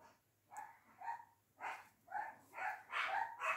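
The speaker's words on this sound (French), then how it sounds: "alors on entend le club canin" Dogs bark outside a door, a faint, muffled run of short barks and yips in quick succession, heard from a distance.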